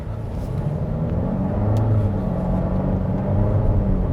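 A Volvo S60 B4 sedan on Michelin Primacy 4 summer tires makes a hard 60-to-0 braking stop, heard from inside as a steady, loud road and drivetrain rumble that holds throughout, with no voices.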